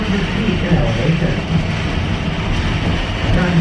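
Georgetown Loop Railroad train in the Colorado mountains rolling along its track, a steady, loud rumble and rattle of cars and wheels that continues without break.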